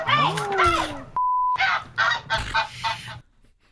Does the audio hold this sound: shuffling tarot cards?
no